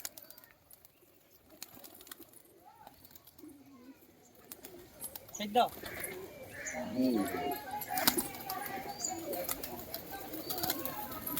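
Fancy pigeons, birds brought from Kolkata, cooing in soft low murmurs, at first faint and sparse, then joined by livelier cooing and rustling, with someone talking over them.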